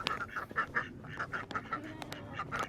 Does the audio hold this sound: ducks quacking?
yes